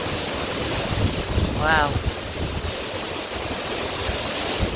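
A swollen river rushes after five days of continuous rain, making a loud, steady roar of water throughout with wind-like noise and a short exclaimed word partway through.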